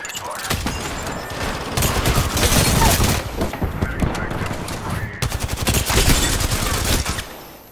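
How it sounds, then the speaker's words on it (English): Apex Legends gunfire: loud, dense bursts of automatic weapon fire rattling almost nonstop, with a short lull midway before another heavy volley. "Joker's shooting at me."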